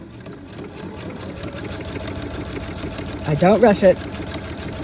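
A Viking sewing machine runs straight stitches with an edge stitching foot, a steady mid-pitched mechanical hum that rises briefly into a louder burst near the end, while someone talks over it.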